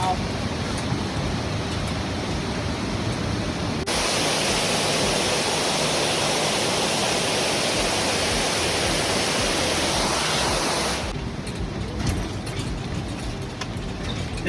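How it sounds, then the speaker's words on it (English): Loud, steady rush of a waterfall inside a cave, a continuous roar that swells even stronger in the middle before easing back. "tell me what you think about the beautiful waterfall inside the cave"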